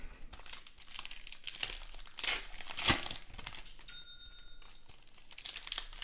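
A baseball trading card box is torn and unwrapped up close, with crinkling plastic and paper rustles and one sharper rip midway, followed by a brief faint ringing tone, with no talking.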